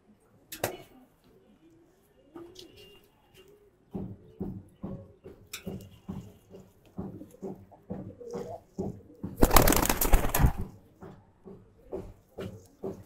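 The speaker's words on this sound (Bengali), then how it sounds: "এই যে আরেকটা কবুতর, এইটাও একটা নর কবুতর।" Male Giribaz pigeons in a loft give repeated low, rhythmic coos at close range, joined by a burst of wing flapping midway and a few knocks.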